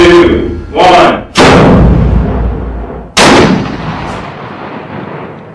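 Explosive reactive tank armor detonates in a test, giving several loud, sharp blasts in quick succession, each followed by a rumbling, decaying roar, close and dominant.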